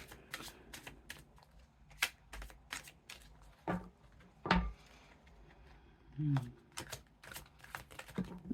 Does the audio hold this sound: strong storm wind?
no